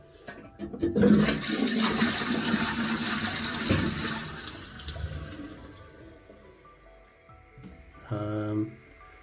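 Water gushes loudly into a sink, then tapers to a softer trickle; a brief burst of running water returns near the end.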